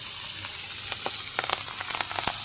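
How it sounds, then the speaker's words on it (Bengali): Pieces of fish sizzle steadily in hot oil in a Bangladeshi home kitchen, with a constant frying hiss broken by scattered sharp pops and crackles, close up and with no voices. "তেল গরম হয়ে গেছে, আমি মাছগুলো দিয়ে দিই"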